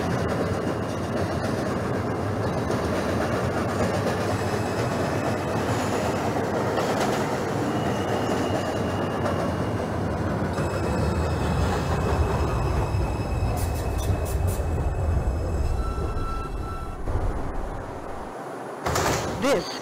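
A Manhattan-bound 2 subway train in the OpenBVE train simulator game rumbles steadily along the tracks, then slows with rising whines and clicks as it comes to a stop, with a voice murmuring over it.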